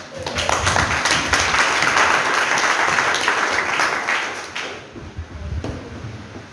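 A church congregation claps together in a loud, dense burst of applause that runs steadily for about four seconds, then thins out to a few scattered claps.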